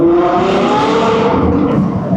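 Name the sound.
Ferrari 812 Competizione V12 engine revving and downshifting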